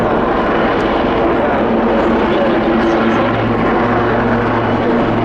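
A Portuguese Navy Westland Lynx MK95 helicopter flies at the Oeiras air show, giving a steady, loud drone of rotor and engine with a low hum that grows toward the end.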